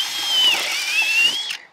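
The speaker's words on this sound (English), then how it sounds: "I'm going to drill through all of them holes." Power drill boring through a steel and timber flitch beam for a garden room roof, a steady high whine that rises and falls slightly with load for about one and a half seconds, then cuts off.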